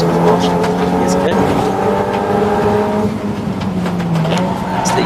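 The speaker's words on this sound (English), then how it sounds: "That's the 27 car going through then." Race car in a 750MC club endurance race at Snetterton circuit, a steady droning engine passing continuously with a sustained roar, under commentator talk.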